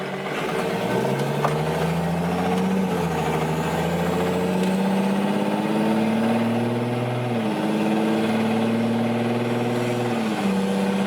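A Cummins diesel engine in a Megacab dually truck drones steadily and loudly while driving, its pitch rising and falling with throttle changes. Any faint irregular tapping from the engine stays buried under the engine hum.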